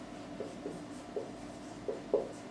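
Chalk or marker strokes scratching across a classroom board as a maths answer is written out, several short soft scrapes spaced irregularly over a faint room hum.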